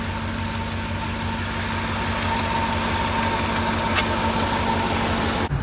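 A 2003 first-generation Dodge Durango with the 4.7L engine idles steadily up close, an even mechanical hum with a faint ticking rhythm running underneath and no voices.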